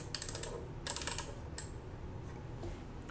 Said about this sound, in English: So this is the knob to handle the volume